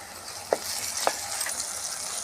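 Tomatoes and salt fry in a pan with a steady hiss of sizzling, broken by two brief clinks or stirring taps, with no talking.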